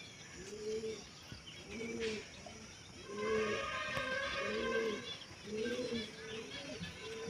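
Domestic pigeons give a run of regular cooing calls, close and clear, joined midway by brighter chirping and a higher sustained tone.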